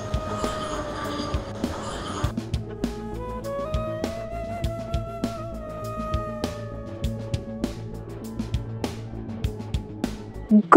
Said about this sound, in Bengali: এখান থেকে যখন ট্রেন যায় দারুণ লাগে কিন্তু দেখতে।